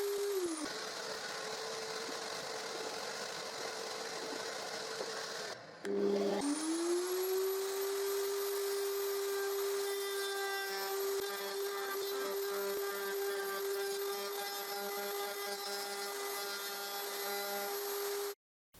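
A wood router rounds the inside edges of a wooden choker hoop: a loud, steady high motor whine that briefly cuts out near the middle, spins back up, then holds until it stops at the end.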